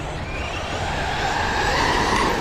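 Two Traxxas XRT radio-controlled trucks race around a track, their electric motors whining in a steady, loud, continuous drone that builds slightly, with tyre scrabble and no talking.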